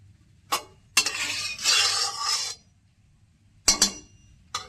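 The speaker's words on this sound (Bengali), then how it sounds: "তেল গরম হয়ে গেছে, দেখুন" Hot oil in a frying pan gives a hissing sizzle lasting about a second and a half, framed by sharp metallic clinks of a utensil against the pan, close by, with quiet gaps between.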